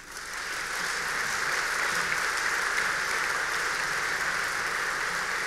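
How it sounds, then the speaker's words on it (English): A gala dinner audience applauds Stuart Kelly after his speech, the broad crowd clapping swelling up quickly from a quieter start and then holding a steady, full roar at moderate distance. "Put the round of applause going for Stuart Kelly, everybody."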